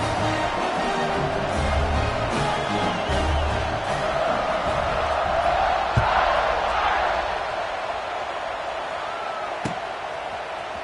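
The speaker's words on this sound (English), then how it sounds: "this crowd is buzzing after that last score" A stadium crowd in an NCAA 26 college football video game buzzes as a dense, steady roar after a touchdown, swelling slightly and then easing off, with a couple of sharp thuds.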